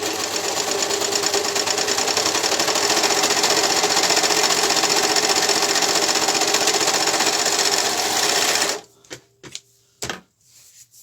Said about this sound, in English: So this is an overlocker. It cuts off the edge and sews at the same time. It's going to be a bit noisy.